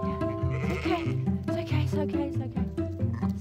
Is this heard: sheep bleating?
yes